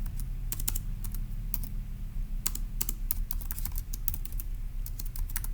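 Rapid, irregular clicks of fingers typing on a computer keyboard, close and steady throughout over a low constant hum, with no voices.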